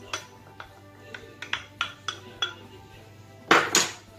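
Sweet chocolate pastry dough is mixed by hand in a bowl after flour and cocoa go in. A utensil clinks sharply against the bowl in an irregular series of light taps, ending in a louder scraping clatter.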